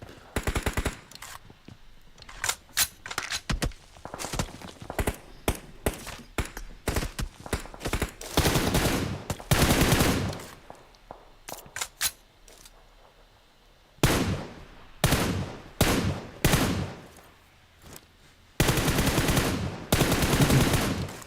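Gunfire in a PUBG Mobile match as players shoot uphill at a team on rocks, heard as loud bursts of automatic fire and single shots in irregular clusters separated by brief pauses.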